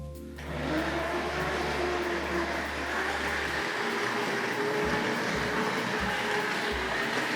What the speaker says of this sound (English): let's get this diesel rail car off around the railway again